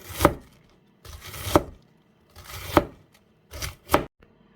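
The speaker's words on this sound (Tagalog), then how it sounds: "Para sa ating cabbage, maliit lang yung ating paghiwa sa kanya." Knife chopping cabbage into small pieces on a cutting board, five sharp clustered bursts of cuts in an irregular rhythm, close and clear with quiet pauses between, no talking.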